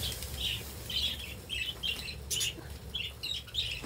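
Multicolored budgerigars in a shared breeding room chirp in quick repeated bursts amid rustling wing flaps and a constant low aviary hum, the calls fairly close and steady.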